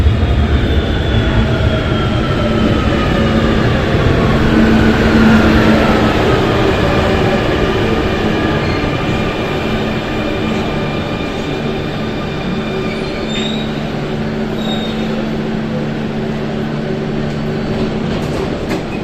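A Barcelona metro Line 2 train runs close by with a steady, loud rumble and sustained high wheel-squeal tones drifting through, and no voices over it.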